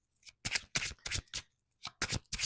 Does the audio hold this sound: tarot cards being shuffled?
yes